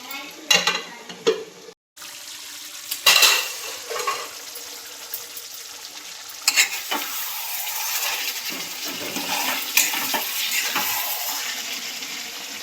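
A spoon stirs ridge gourd fish curry in a pan, giving scraping and clinking strokes over a soft, steady sizzle, up close with irregular pauses.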